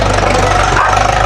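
A tractor engine runs steadily and close at a home building site in Thailand, a loud continuous low rumble with a slight knocking pulse throughout.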